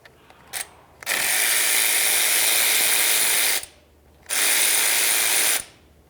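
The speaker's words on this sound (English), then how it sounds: "Use an 8mm socket to remove the mounting bolt." A ratchet on an 8mm socket backs out the ABS sensor mounting bolt on the front knuckle of a 2010-2013 Ford Transit Connect, clicking fast and loud in two sustained runs with a brief pause between.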